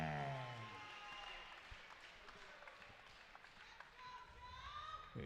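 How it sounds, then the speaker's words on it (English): Crowd applause and cheering at a kickboxing event as a fighter is introduced, a broad, sustained wash of clapping and crowd noise with the announcer's voice carrying over it throughout. "Please give a warm round of applause for Seamus"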